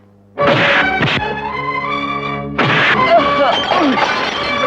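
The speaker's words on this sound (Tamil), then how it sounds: "இப்ப எதையும் உடைக்கிற சத்தம் கேக்குது" Loud crashes of things being smashed and broken burst out twice, with clattering debris and muffled commotion between them.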